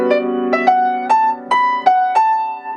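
A short jazz lick, starting on the 9th, played on a sustained, tonal instrument, several clearly articulated notes in a swinging rhythm over a held low note.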